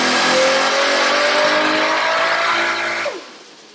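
The Fast and Furious Toyota Supra roars loud and close on a dyno, its engine held at high revs with a rising whine, then cutting off sharply near the end into a fading rumble.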